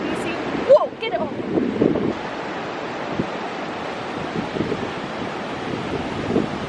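Waves breaking on the beach at Fraser Island (K'gari), a continuous low wash heavily mixed with wind noise on the microphone, with a few brief sharp knocks and faint voices early on.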